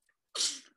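One quick, breathy sneeze close to the microphone, loud and abrupt after a moment of near silence.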